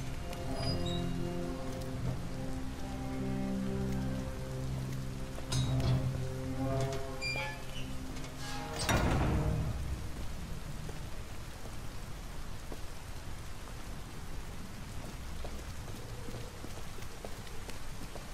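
Steady rain pours throughout a street scene in Detroit: Become Human, a dense hiss of falling drops on surfaces, with music-like tonal layers in the first half and a brief loud swell near the middle.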